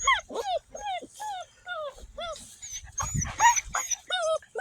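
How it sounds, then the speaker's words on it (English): Six-week-old puppies yip and whimper close by in short high-pitched bursts, with someone talking to them in between. "All you do is yip, yip, yip, yip, yip, yip, yip."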